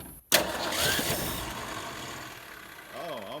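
A small engine cranks and catches after a single primer pump, starting with a sharp burst and then settling into a steady mid-pitched idle that runs alone.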